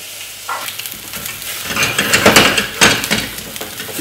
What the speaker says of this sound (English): all you're going to do is pop that straight onto your pan.